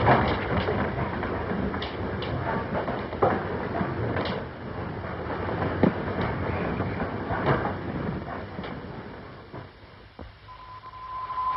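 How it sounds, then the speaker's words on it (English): A train crossing a bridge rumbles along with a muffled, steady roar and scattered rhythmic clanks, the noise easing briefly near the end. "It's against all the regulations to stop the train on the bridge"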